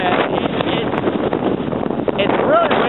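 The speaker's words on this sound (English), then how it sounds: "It's really windy out." Strong Hurricane Sandy wind buffeting a microphone outdoors, a loud continuous roaring rumble with gusty fluctuations throughout.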